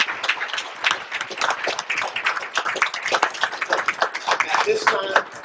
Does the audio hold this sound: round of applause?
yes